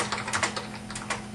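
Keys tapped on a computer keyboard while entering a shape description in drawing software, a quick run of light, close clicks over steady low background hum.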